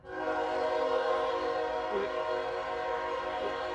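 A train passes on a rail line right across the street, its horn sounding a steady, loud, sustained chord that fills the whole stretch, with no talk over it.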